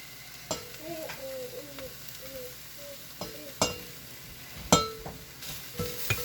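Chicken and carrots cook in a drying pot with a soft steady sizzle, punctuated by several distinct metal utensil clinks and stirring scrapes against the pot, with no talk.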